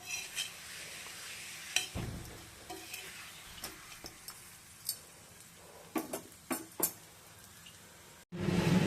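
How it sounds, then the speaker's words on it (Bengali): A paratha fries in a little oil on a pan, making a quiet, faint sizzle with scattered clicks and utensil taps, then a brief louder burst at the end. "সামান্য একটু তেল দিয়ে এখন ঝটপট ভেজে নিতে হবে।"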